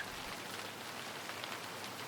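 Steady rain falls in a soft, continuous hiss of dense patter, fairly quiet and even throughout, with no voices.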